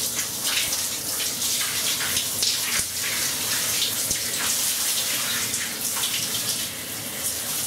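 Cold water from a handheld shower head runs steadily over a person's scalp and hair as they bend forward, a close, continuous splashing gush with no voices.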